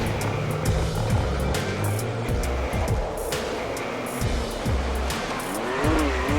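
A stripped-down Can-Am Maverick X3 side-by-side with a 900cc turbo engine mounted in the back, driven hard across an empty field, its loud engine revving up and down continuously with rising and falling pitch and no talk.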